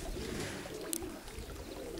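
Pigeons coo softly against a steady background hum, with one brief sharp sound partway through; these are black and white-tailed Krokos pigeons kept in a loft.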